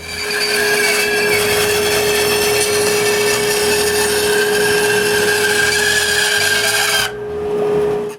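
A band saw cuts curves into the sides of wooden legs for a six-drawer dresser, a loud steady whine with a constant tone that runs for about seven seconds before the blade leaves the wood and the motor winds down.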